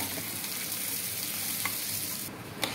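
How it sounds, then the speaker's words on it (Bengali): Rice coated in turmeric and ghee fries in a pan with a constant close sizzle, and stirring scrapes cut in now and then. No one speaks. "হলুদ মাখানো চালটা আবার দিয়ে দিলাম, দিয়ে আবার একটু রান্না করবো এটাকে।"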